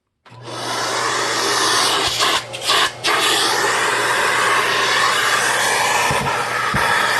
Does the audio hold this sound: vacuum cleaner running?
yes